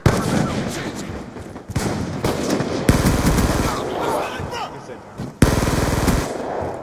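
Rapid gunfire in Call of Duty: Black Ops 2 on the Plaza map, repeated bursts, loud and dense, with brief gaps between volleys and faint voices underneath.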